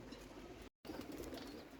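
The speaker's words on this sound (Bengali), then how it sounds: "আমার অনেক শখের কবুতর বাবু কবুতর ছিল" Brief, soft pigeon cooing with a low murmuring tone, interrupted by a moment of sudden silence before it resumes.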